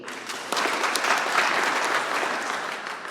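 An audience at an anniversary celebration claps to vote for an answer, a burst of fairly loud, dense applause that starts sharply and holds steady before easing slightly.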